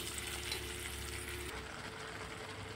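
Mixed vegetables tipped into a pan of frying spice masala, a steady loud sizzle throughout with a brief shift partway as they land, no voices.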